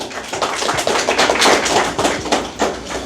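Audience at a national teachers' day award ceremony honoring teachers breaks into loud, sustained applause, a dense stream of overlapping claps lasting throughout without speech.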